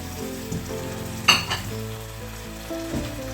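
Chicken thighs sizzle in hot olive oil in a pan, a close, steady frying hiss with a sharp burst as pieces are laid in and a few clinks and stirs, no talk.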